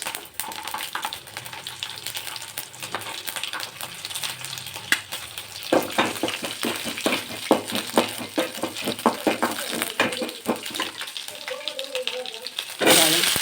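Cumin and garlic frying in hot oil for a tomato chutney, a steady loud crackling sizzle with sharp spattering pops throughout, and a voice speaking over it.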